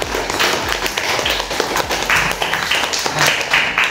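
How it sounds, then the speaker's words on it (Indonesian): A classroom of children claps together, a quick run of sharp, uneven claps that carries on steadily with little talk. "Tepuk tangan dulu."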